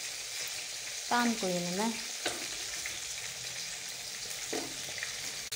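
Chicken frying in a pan, a steady broad sizzle that runs throughout while someone talks briefly over it.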